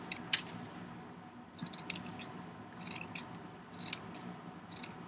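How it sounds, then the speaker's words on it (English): Scissors trim a yarn pom-pom in quick bursts of crisp, close snipping, clustered in irregular runs over a faint background hiss, with no speech. "and trim this as much as I possibly can, kind of like a hair cutter"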